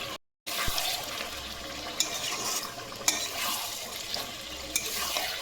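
A spatula stirs black and white mustard paste with capsicum and tomato in a hot pan, making a steady close sizzle with a few sharp scraping clicks spread through it. No one speaks.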